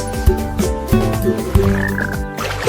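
Cartoon frogs croak repeatedly in a bouncy rhythm, loud and close, over a bright musical background.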